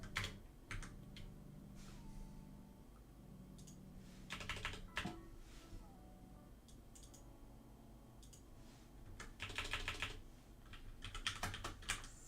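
Quiet computer keyboard typing in irregular bursts of clicks and clacks, with pauses between runs of keystrokes and louder flurries near the middle and end.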